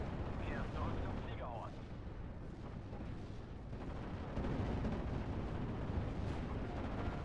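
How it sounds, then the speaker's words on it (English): An airstrike hits an anti-air position in the World War II strategy game Steel Division: Normandy 44, with rumbling explosive blasts and crackling impacts over a dense, continuous battlefield din. "So that's an airstrike on the anti-air, I believe."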